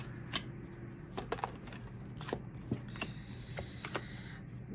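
A deck of tarot cards shuffled by hand at close range, with quick riffling bursts and soft slaps of cards, quiet and intermittent with no talking.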